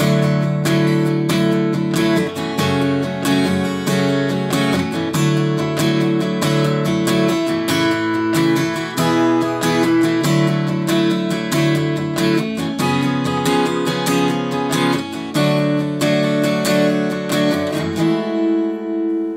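Strummed guitar chords moving through the progression of a song, steady and dense with no pauses, ending on a ringing final chord.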